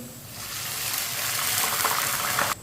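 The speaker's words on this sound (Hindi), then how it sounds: "थोड़ा सा पानी डाल लेंगे।" Water gushes steadily into a cooking pot over lightly browned onions, a close, continuous rushing pour that stops abruptly near the end.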